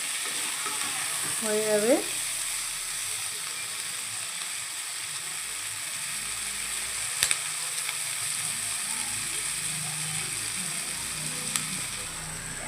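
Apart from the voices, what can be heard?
potato, cauliflower, carrot, onion and chilli frying in pan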